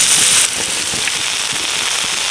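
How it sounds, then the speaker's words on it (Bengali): Panch phoron spices crackle and sizzle in hot oil left over from frying lentil dumplings, a dense, loud, continuous spatter heard close up with no talking. "বড়ি ভাজার তেলে পাঁচফোড়ন দিয়ে দিলাম"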